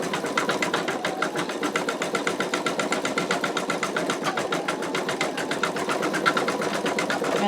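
Embroidery machine stitching out an in-the-hoop wallet, a fast, even mechanical needle chatter repeating steadily at close range without pause.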